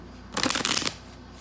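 A stiff new tarot card deck shuffled in one brisk, close riffle lasting about half a second, a loud papery flutter set against quiet room tone.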